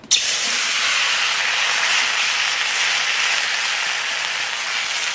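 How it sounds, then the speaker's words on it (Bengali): Taro stolons (loti) frying in hot oil in a pan after fish, a loud steady sizzling hiss that starts abruptly and holds evenly, with no talk. "মাছ ভাজা হয়ে গেছে, এইবার নতি কয়েকখান ভেজে নেব।"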